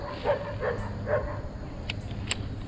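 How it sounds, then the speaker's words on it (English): A dog barks near a lake during bass fishing, three fairly quiet, evenly spaced barks from some distance, then short faint sounds as the barking stops. "That dog will not stop barking."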